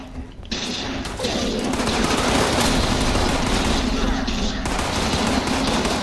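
Dense automatic gunfire in Fallout 76 rattles on almost nonstop at close range, loud and continuous with brief gaps between long bursts.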